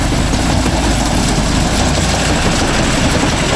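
A John Deere 5105 40 hp 4WD tractor running with a mounted cutter on farmland: a loud, dense, continuous engine roar with a low rumble and rattling clatter, close by and steady throughout.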